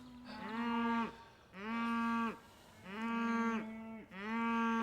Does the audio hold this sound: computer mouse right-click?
no